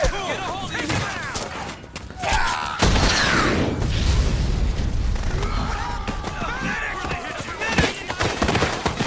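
In Metal Gear Solid 4, an RPG explosion rumbles in a heavy booming burst amid battlefield gunfire and clatter, with soldiers' voices shouting over the din.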